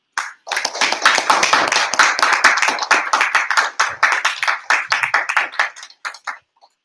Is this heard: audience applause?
yes